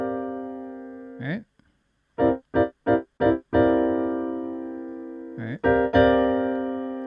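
A C eleven chord with the third omitted and a flat seventh rings out in a few short stabs and then sustains, with a voice briefly speaking between the chords.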